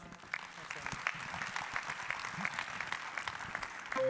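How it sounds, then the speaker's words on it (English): Conference audience applauding two panelists at an energy infrastructure session, a continuous wash of many hands clapping at moderate distance, fairly soft and steady throughout. "please give Pablo and Bashir a round of applause"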